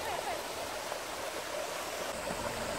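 Cascading water from waterfalls in a Japanese garden in Costa Rica, a steady broadband rush that fills the whole moment without pause, with faint bird calls or distant voices mixed into the constant spray.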